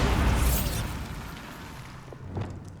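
A Bombarda spell in Hogwarts Legacy blasts a tangle of dry vines, opening with a loud, close explosion whose rumbling roar slowly fades. A few faint crackles and thuds follow near the end.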